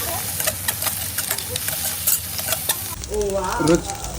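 Ginger garlic paste for chicken fried rice fries in a hot pan, a steady close sizzle with a stirring scrape, shifting to a deeper, louder bubbling hiss partway through.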